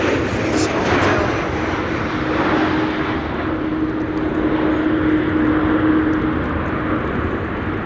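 A Norwegian airliner roars steadily overhead on arrival at windy Amsterdam Schiphol Airport, its engines loud and sustained for the whole stretch, with a faint voice under the noise.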